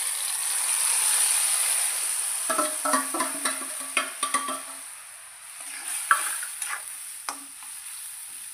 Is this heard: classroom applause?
no